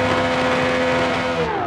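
A racing V12 engine in a car video game revs loudly and steadily, its tone holding then dipping slightly near the end, with no talk over it.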